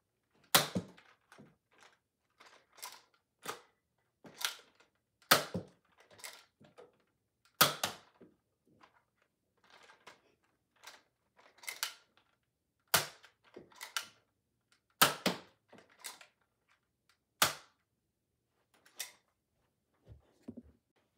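A Nerf Fortnite Flare six-round rotary hammer-action blaster is fired one-handed: a series of sharp, spaced snaps and clicks, roughly a dozen over twenty seconds, with faint mechanism rattles between them and no talk.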